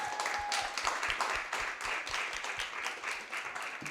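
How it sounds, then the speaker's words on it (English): Audience applause for a panel at the close of a careers session, a steady wash of many hands clapping at moderate loudness, with a few louder individual claps standing out near the start. "Can we give the panel a round of applause for the amazing session?"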